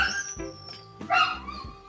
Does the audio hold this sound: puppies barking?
yes